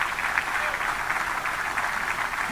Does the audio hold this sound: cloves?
no